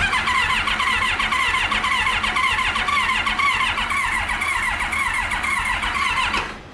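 A Kawasaki Ninja ZX7R motorcycle engine cranks over on the starter in a steady, loud, continuous whir that stops abruptly near the end.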